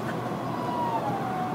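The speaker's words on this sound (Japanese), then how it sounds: "今通りましたね。 噂をすればピーポー。" An emergency vehicle siren sounds in passing, a steady wail with a slowly falling pitch, heard moderately loud over low traffic rumble with no one talking.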